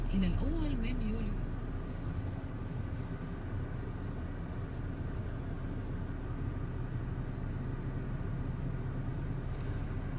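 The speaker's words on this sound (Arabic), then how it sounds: "نشغل السيارة" A 2018 Renault Megane engine starts and settles into a steady, low idle rumble that runs evenly throughout, with no other sound over it.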